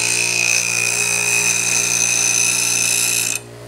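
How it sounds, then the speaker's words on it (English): A bench grinder steadily grinds the bevel of a hand plane blade, the blade rolled against the wheel to camber it, giving a loud continuous high-pitched whine with a low motor hum that stops abruptly near the end. "So I'm trying to grind out and feather out that bevel"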